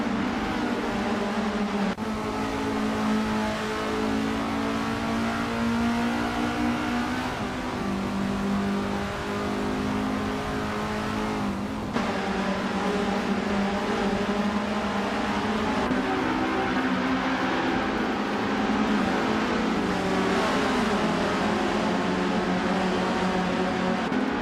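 Racing video game with a pack of 1972 Estonia 18 race cars, a continuous droning engine note that rises and shifts as the cars accelerate through gears, steady and loud with no talk.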